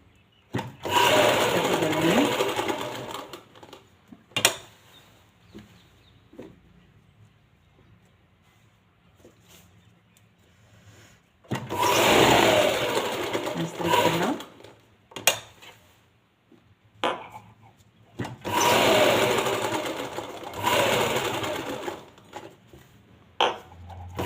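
A domestic sewing machine stitches a simple neckline onto a garment in three long, steady runs of close, whirring mechanical chatter, separated by quiet pauses with small clicks and handling noises.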